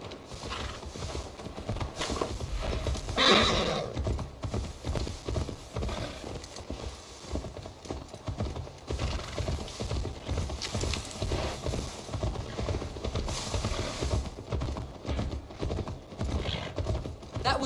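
Horse hooves clip-clopping and a neigh in Assassin's Creed Valhalla, steady quiet hoofbeats with a brief louder whinny early on, over soft game ambience.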